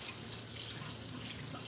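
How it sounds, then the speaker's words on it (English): Water from a kitchen tap runs steadily over a spoon being rinsed in a sink, a soft continuous splashing hiss at close range with no voices. "Washing off this spoon"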